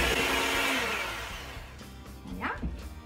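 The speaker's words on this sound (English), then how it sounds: "I'm going to mix it a little bit with the electric mixer" An electric mixer whirs steadily through cupcake batter in a home kitchen, a loud continuous motor drone for about a second and a half that then fades and stops, followed by brief clattering in the bowl.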